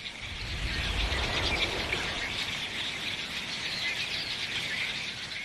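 Flock of redwings in winter, a dense, continuous chatter of high-pitched calls and chirps blending into a shimmering wash, with a low rumble underneath at the start.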